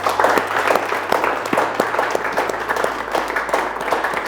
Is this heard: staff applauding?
yes